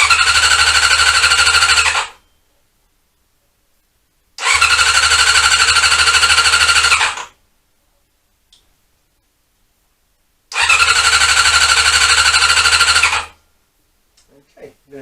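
A Honda CB-1 (NC27) motorcycle engine cranks over three times without firing. Each burst of rapid mechanical chugging lasts about two to three seconds, with silent pauses between attempts, close and loud.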